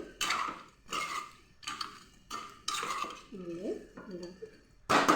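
A spoon stirs tomato pieces into onions in a metal pan, scraping and clinking against it in repeated close strokes with brief pauses between them.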